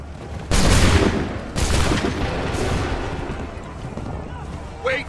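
A massed musket volley fired on command in the Assassin's Creed 3 video game: two heavy crashing bursts of gunfire a second apart, each trailing into rumbling echo, loud and close.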